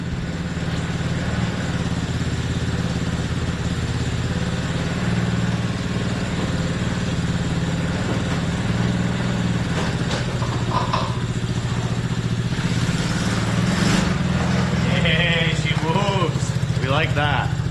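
A free quad ATV's engine runs at a steady, loud idle with a constant low rumble and mechanical clatter, while voices speak briefly over it.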